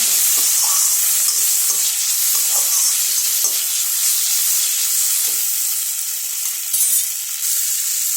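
Tomato masala sautéing in oil for idli kurma, stirred in a pan; a steady close hiss of frying runs throughout with soft scraping stirs, and no one speaks.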